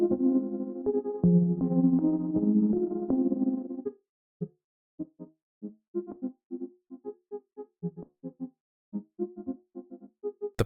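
Output from the Burns Audio Granular iOS app, a granular effect modeled on Mutable Instruments Clouds, in its original granular mode: a dense, sustained tonal texture that breaks into choppy, stuttering grain bursts separated by short silences.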